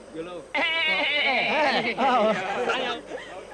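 A goat bleats repeatedly in a wavering, quavering cry inside a cave, fairly close, with people chattering in the background.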